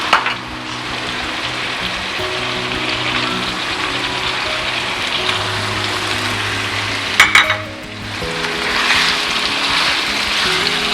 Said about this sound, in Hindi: अब अदरक लहसुन के साथ इस मटन को अच्छी तरह से भूनेंगे।